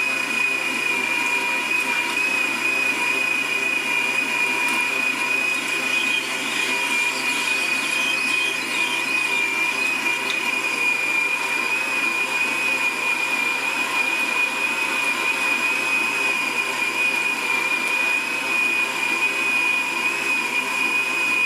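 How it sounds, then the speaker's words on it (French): A Hauswirt stand mixer running its meat grinder attachment at speed 5, mincing meat with a loud, steady high-pitched motor whine that holds unbroken from start to finish, with no talking. "On va tester de la viande hachée au niveau du robot."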